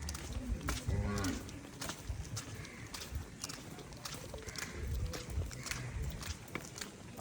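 Oxen moo several times, low and drawn out, amid outdoor background noise and occasional footsteps.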